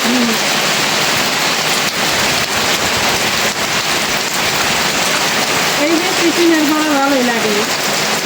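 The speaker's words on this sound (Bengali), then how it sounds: "অঝোর ঝরা বৃষ্টি এই বৃষ্টি মনে করো থামবার নয়" Heavy pouring rain during a sudden storm makes a loud, dense, continuous hiss of drops on surfaces throughout, with a voice briefly heard faintly under it near the end.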